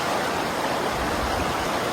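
River water flowing in a steady, dense broadband rush, continuous and close with no breaks or voices.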